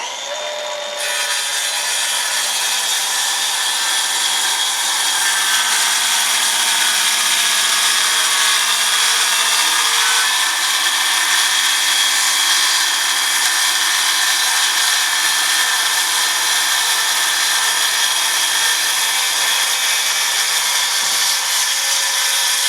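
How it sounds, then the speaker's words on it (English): A Craftsman 12-inch radial arm saw cuts through two stacked layers of board, its motor whining loud and steady throughout after a brief start-up, with no voices. "I'll go ahead and cut this off. I've got my saw set up so it just goes through both layers of this."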